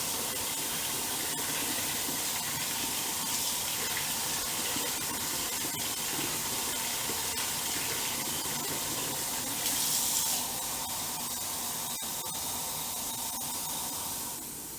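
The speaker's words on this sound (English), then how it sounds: "Let my water get warm here for a minute." Steady tap water runs without a break for the whole stretch, a broad even hiss with a brief louder gush near the end.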